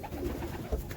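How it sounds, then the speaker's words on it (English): Pigeons coo softly inside a coop, a few low throaty murmurs close by in a short burst. "Over here in this section, these are my new birds."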